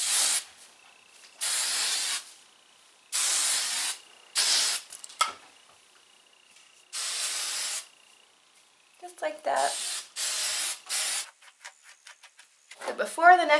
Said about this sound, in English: I'm gonna make it a little bit dirty by spraying some hairspray all over my hair